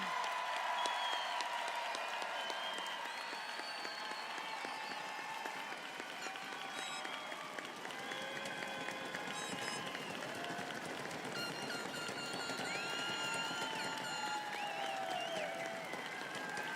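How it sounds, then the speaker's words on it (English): A graduation crowd at Rocky Mountain High School gives the class of 2021 a long, sustained round of applause, distant and even, with scattered cheers and whoops rising through the clapping. "Can we have one enormous round of applause for the class of 2021?"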